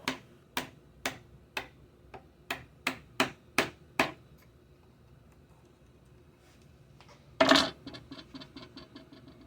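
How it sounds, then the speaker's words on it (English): A chisel chops notches into a groove in tiger maple with about a dozen sharp, evenly spaced taps, close and crisp, followed after a pause by a brief louder scrape and a few faint clicks. "The better way is to chop notches in the groove to then remove both with the chisel."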